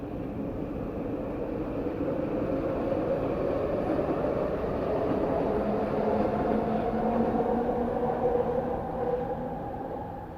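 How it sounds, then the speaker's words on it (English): A train rumbles past nearby, a loud continuous roar with droning tones that swells slightly toward the middle and holds steady throughout, no speech. "Sorry about the train."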